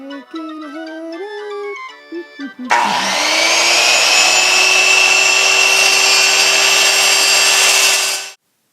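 Wood pieces for a header are cut with a power saw, a loud, steady, close whine that runs for about five seconds after a short stretch of music, then cuts off.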